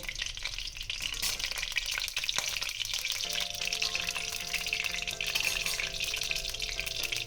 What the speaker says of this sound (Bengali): সবার প্রথমে আমি কাজুটা ভেজে তুলে নেব।